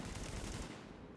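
Gunfire in Tom Clancy's The Division on PC, a rapid automatic burst rattling loudly for about half a second and then cutting off into a dull ringing tail.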